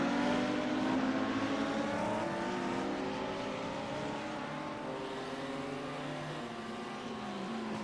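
Turbocharged Audi and Lamborghini GT3 race cars at Sebring, engines droning in a steady sustained roar that slowly fades a little, mid-distance with no voices.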